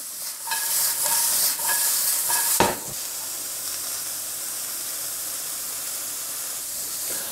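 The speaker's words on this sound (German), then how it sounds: "Die Zwiebeln direkt in die Pfanne rein und da drin anbraten." Onions sizzle in a frying pan that still holds the residue of an earlier sauce. A brighter burst of sizzling and stirring comes first, then settles into a steady, moderate hiss of frying with no voices.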